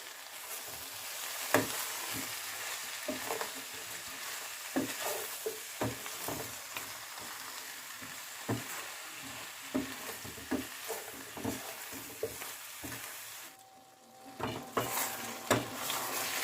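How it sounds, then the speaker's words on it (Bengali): Mixed vegetables for labra frying in a pan with ground spices and salt, a soft continuous sizzle broken by frequent light scraping and tapping from stirring, with a brief lull near the end. "আবারও খানিকক্ষণ ভেজে নিতে হবে।"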